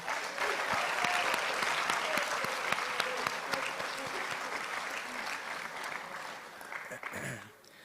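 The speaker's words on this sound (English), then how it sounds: "So if you could join me in a round of applause for Joe Quartus." Sustained applause from a banquet crowd at a football awards dinner, steady and loud throughout, with a few sharper claps and the clapping tapering off near the end.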